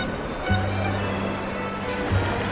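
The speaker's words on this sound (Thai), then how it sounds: "พามาเล่นน้ำตก ที่คีรีวงค่ะ" Water from a waterfall stream at Khiri Wong rushes with a steady broadband hiss throughout, joined by a low droning hum that comes and goes midway.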